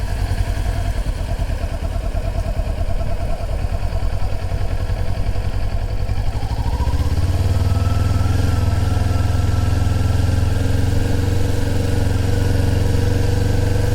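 A motorcycle engine idles while warming up, a close, steady clattering rumble that shifts after about seven seconds to a deeper, smoother drone with a rising tone, and no talk over it.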